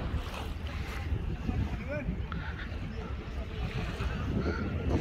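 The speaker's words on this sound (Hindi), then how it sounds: "हवा की वजह से पानी फुल जो है ना छल्ले मार रहे" Wind gusts and choppy sea water slap and churn steadily by the shore near the Burj Al Arab, a constant rough, blustery wash with buffeting wind noise on the microphone and voices talking underneath.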